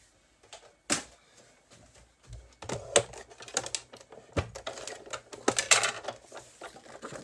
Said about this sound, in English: I'm going to run these through the Big Shot machine so you can actually see what they do